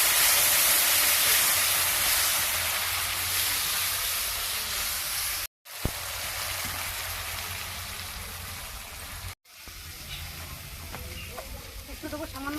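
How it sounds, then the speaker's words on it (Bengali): Chili and cumin-coriander paste masala fries in a pan, making a steady, moderately loud sizzling hiss that cuts out briefly twice before resuming. "এখন দিয়ে দেবো লঙ্কা, 1 চামচ জিরে ধনে বাটা, এটাকে ভালো করে কষে নেবো।"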